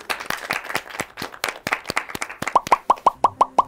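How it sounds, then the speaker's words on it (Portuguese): Studio audience on a Brazilian talk show claps, giving a run of sharp, fairly close hand claps that grows into a steadier, evenly spaced patter toward the end, with no talking over it. "Palmas, por favor."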